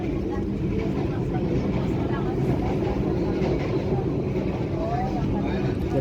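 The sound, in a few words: KA Fajar Utama Yogyakarta passenger train running on rails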